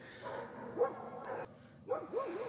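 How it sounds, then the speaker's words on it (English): Several dogs bark and yip excitedly in two close, loud bursts around a stock tank being fitted with a heater, with a short lull between them. "All the dogs are going crazy."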